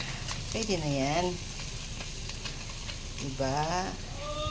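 Tamban and tilapia fish grill over charcoal with a steady hiss and crackle, interrupted twice by loud, wavering animal-like bleats.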